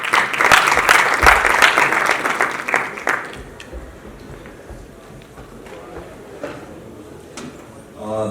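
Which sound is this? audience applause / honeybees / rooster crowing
audience applause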